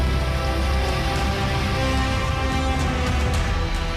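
Monsoon rain pouring over Mumbai, a steady, dense hiss that holds loud and unbroken from start to finish with no voices.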